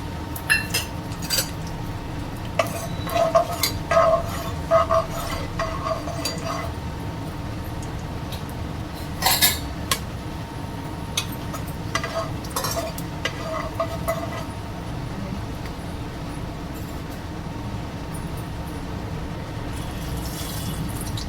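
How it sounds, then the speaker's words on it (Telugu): Whole garam masala dropped into hot oil and stirred while making fenugreek-leaf chicken curry, a steady low sizzle with scattered spoon clinks and scraping against the pan, close and continuous. "ఆయిల్ హీట్ అయిపోయింది కదా ఇప్పుడు హోల్ గరం మసాలా వేసుకోవాలి"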